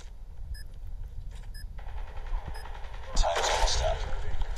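Gunfire and a frag grenade explosion in a Call of Duty Mobile search-and-destroy match on the Highrise map: scattered shots and game beeps build into a louder, sustained burst of blasts and crackle.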